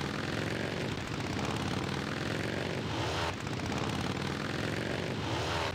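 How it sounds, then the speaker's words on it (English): Motorcycle engines in a West Front war strategy game drone in a loud, continuous roar, a dense steady buzz that swells slightly and repeats in a loop with no gaps. "I love the sound effects of those motorcycles."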